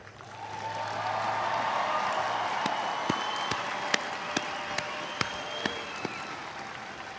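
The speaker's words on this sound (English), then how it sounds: "Let's all give our MTIs another round of applause." Sustained audience applause fills a large hall at a US Air Force Basic Military Training coin and retreat ceremony, a dense steady clatter of many hands with a few sharper individual claps standing out near the end.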